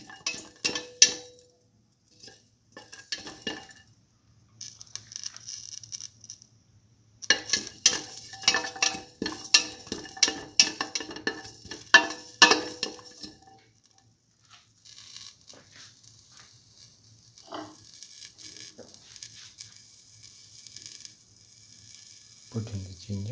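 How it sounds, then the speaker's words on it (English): Mung beans sautéing in a pan for coconut rice, with intermittent scraping and clinking of a utensil against the pot in bursts separated by quieter pauses, close and moderately loud. "Keep on sauteing."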